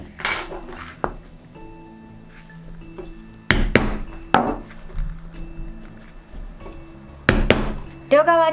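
Sharp hammer strikes drive a punch through leather while a pocket tissue case is being handmade, with a few loud close knocks spread across quieter pauses and a faint background hum.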